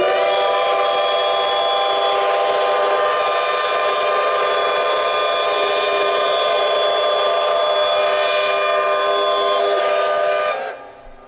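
A steam locomotive's whistle blows loud and sustained for about ten seconds at a locomotive parade, rich and multi-toned, before cutting off abruptly.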